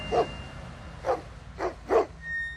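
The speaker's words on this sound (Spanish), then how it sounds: "Esos tus perros están algo bravos, Pedrito." Dogs on a coffee farm bark at an arriving visitor: four short barks over about two seconds, moderately close, standing out above steady background noise.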